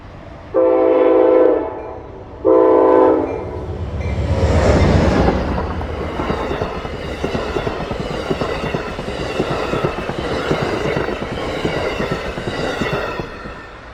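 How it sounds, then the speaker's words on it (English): Amtrak trains on the Keystone Corridor in winter snow, with two loud blasts of a train horn followed by the rising roar and rushing clatter of a train speeding past close by. "trains speeding through the snow"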